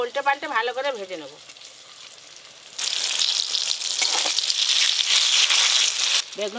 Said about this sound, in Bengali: বেগুনগুলো উল্টে পাল্টে ভালো করে ভেজে নেব।